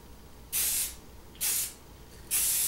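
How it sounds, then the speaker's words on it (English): Primer sprayed from an aerosol can onto a Corgi Porsche Carrera 6 model car during restoration, three separate bursts of hiss, each about half a second long, close and loud, with quiet gaps between them. "God, who's that ugly guy spraying that primer on my car?"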